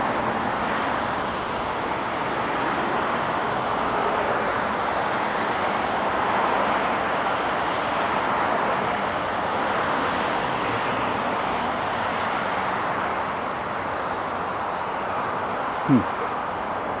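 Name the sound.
traffic on Storrow Drive, Boston, heard from a bridge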